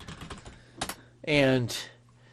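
Quick clicks of typing on a computer keyboard tap out in a short burst near the start, then someone speaks briefly.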